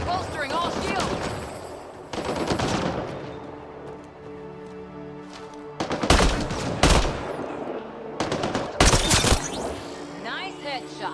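Sci-fi gunfire from Mass Effect: Andromeda rattles in rapid bursts, with loud sharp volleys clustered toward the second half, mixed with game sounds and voices.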